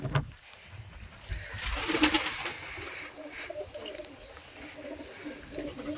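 Pigeons cooing inside a pigeon coop: soft, overlapping throaty coos from several birds, fairly close, with a brief brighter flutter near the middle.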